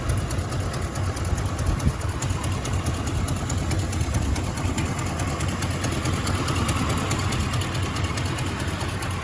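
Steady, rumbling idle of a 1971 Oldsmobile Cutlass S 350 V8 with 442 heads, a constant low throb held close and loud for the whole stretch with no talk.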